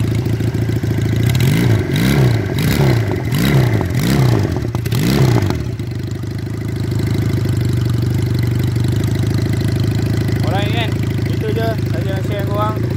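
A custom motorcycle engine runs with a steady low throb, revving rhythmically several times early on before settling to idle; brief speech late in the clip.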